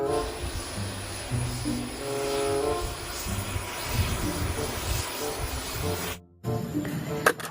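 Toy airplane making an aircraft engine sound effect, a loud droning electronic engine tone with shifting pitch steps, cutting off abruptly near the end before a brief noisy restart.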